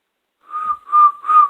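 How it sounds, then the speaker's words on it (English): A mouth whistle is blown with the tongue resting low and relaxed in the throat-singing position, giving three clear, steady, close tones one after another, with short breaks between them and no talk. "But if you blow, it should make a whistle."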